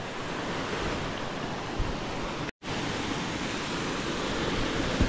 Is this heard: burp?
no